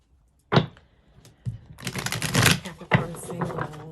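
Tarot cards being shuffled by hand: a sharp slap, a few soft taps, then extended rapid riffling flutters in two bursts, close and fairly loud, with a voice talking faintly among them.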